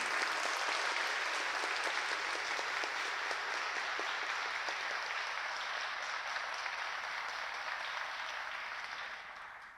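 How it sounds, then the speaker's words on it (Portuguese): Audience at a formal swearing-in of judicial council and magistrates' school officials applauds steadily for about ten seconds, a dense, even wash of clapping that tapers slightly at the end. "Peço uma salva de palmas a todos os empossados"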